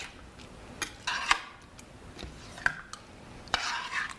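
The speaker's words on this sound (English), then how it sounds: "Give that a nice stir" Eggplant arrabbiata with a squeeze of lemon juice being stirred in a pan, with a few scattered spoon clinks and scrapes against the metal over a soft background, close and fairly quiet.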